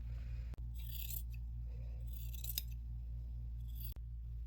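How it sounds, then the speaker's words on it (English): Scissors cut away damaged chemise fabric, with a few quiet crisp snips and soft sliding blade sounds over a low steady hum, heard up close. "I'm going to take my scissors and I'm going to cut away just the layer of the damaged fabric"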